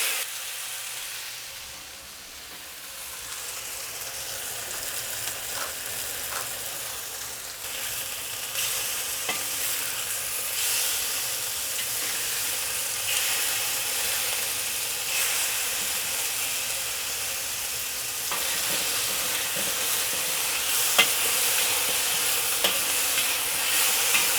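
Chicken pieces are spread in one layer in a hot pan for a stir fry with broccoli and carrots. They give a continuous loud sizzle and hiss with occasional stirring scrapes, building steadily, with no talking.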